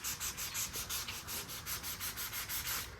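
Dry sanding of Evercoat 4:1 polyester primer on a car panel: steady back-and-forth rasping strokes in a regular rhythm, close and fairly loud, with no voices.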